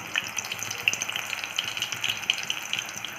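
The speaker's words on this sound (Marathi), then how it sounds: "इथं तुम्ही एक एक करून पकोडे सोडू शकता" Fenugreek pakoras made with a little jowar (sorghum) flour frying in hot oil, a steady close sizzle with crackling pops and bubbling throughout.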